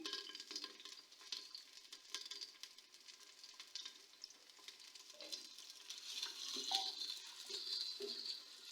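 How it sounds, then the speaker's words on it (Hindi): Onions frying and slowly browning in a pan for a gourd masala dish, a soft continuous sizzle with faint stirring scrapes that swells slightly toward the end, no talk. "सबसे पहले मैं प्याज डालूंगी और प्याज को मैं हल्का सा ब्राउन कर लेती हूँ।"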